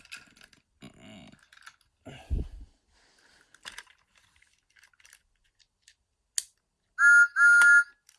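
A toy Thomas steam engine's shrill whistle sounds twice in quick succession near the end, after scattered quiet clicks and mechanical rattles.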